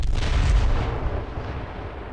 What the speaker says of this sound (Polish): Samochód wybuchł